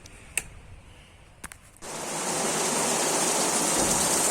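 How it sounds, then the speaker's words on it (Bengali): Heavy torrential downpour during a dark, stormy spell with little wind, starting abruptly after a brief quiet stretch with a few faint knocks, then a loud, dense, steady roar of rain continuing to the end. "এদিকে এত কি হারে বৃষ্টি হচ্ছে, একদম পুরো মুসুলধারে বৃষ্টি হচ্ছে"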